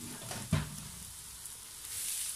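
Fried pork belly drops back into a pan of sautéing aromatics for stir-fried green beans, a brief clatter and thump followed by a soft continuous sizzle that rises slightly toward the end.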